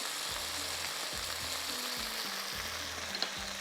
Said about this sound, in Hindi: तो थोड़ा सा फ्राई होने देंगे